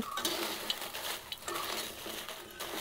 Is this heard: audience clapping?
no